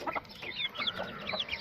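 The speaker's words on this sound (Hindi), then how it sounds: "ये यहाँ पर हमारी एक चिक वाली मुर्गी है" A mother hen with a single chick gives a run of soft, repeated clucks, close to the microphone with no other sound around them.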